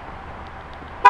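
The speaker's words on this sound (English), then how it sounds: "The horn will chirp twice" A car horn gives one short, bright chirp near the end as a factory remote start system is activated from the key fob, after a near-silent stretch.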